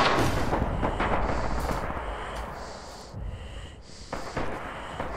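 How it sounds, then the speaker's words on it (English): A soldier character in Red Orchestra 2 breathes heavily with a loud, raspy, wheezing rush of air, sustained and close throughout, under scattered faint in-game noises. "Sometimes this guy's breathing noise is a little disturbing."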